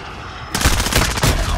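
Sudden loud burst of automatic gunfire in Call of Duty: Modern Warfare multiplayer, close rapid shots that break in after a moment of quieter game ambience and run to the end.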